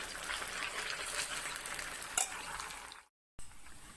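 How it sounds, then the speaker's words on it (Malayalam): Chicken pieces for garlic chicken frying in hot oil, a steady dense sizzle throughout with a short stir clatter near the end before the sizzle breaks off briefly and resumes. "ഇപ്പം നമ്മുടെ ചിക്കൻ ഒരു ട്രിപ്പ് ഒന്ന് ഫ്രൈ ആയിട്ടുണ്ട്"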